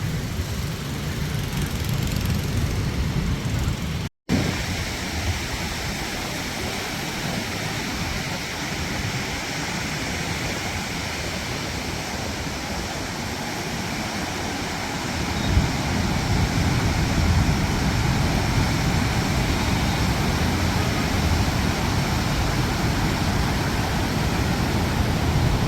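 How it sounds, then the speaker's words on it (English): Ocean waves at My Khe beach in Da Nang make a continuous broadband roar of surf, loud and steady, briefly cutting out once early on and swelling slightly later, with no voices. "Another great day to watch waves here at the My Khe"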